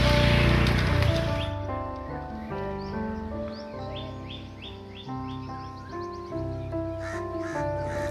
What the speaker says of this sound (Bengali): আর পাখির ডাকে মুখরিত চারিদিকটা